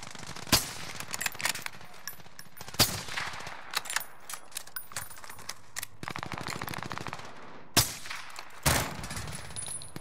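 Loud, close gunfire from a one-shot kill gun in the video game Rebirth, with sharp single blasts and rapid bursts of shots spread across the clip.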